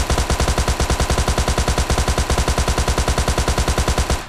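A Tommy gun fires in PUBG Lite as one loud, continuous burst of rapid, evenly spaced automatic shots, with no speech over it.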